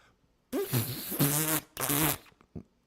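A whoopie cushion lets out two long, buzzing, rasping fart blasts, close and loud, ending in a short sputter, with quiet before and after.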